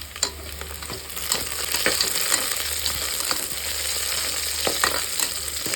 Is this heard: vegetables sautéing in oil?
yes